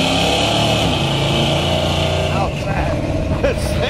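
A 1970 Ford Torino V8 engine rumbles loudly from inside the car and pulls harder as it accelerates, with someone talking over the engine noise.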